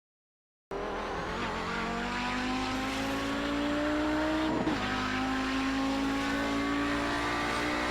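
An Audi 90 GTO race car laps the Montreal circuit, its engine roaring loud and close from onboard, pitch sweeping through gear changes under heavy braking and downshifts, with a brief jolt midway.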